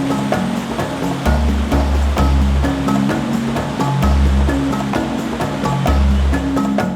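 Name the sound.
four-wheel-drive car driving through a water crossing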